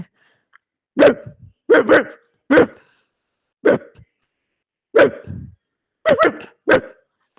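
A voice mimics a dog barking, nine sharp bark-like bursts in quick groups with short pauses between, close and fairly loud.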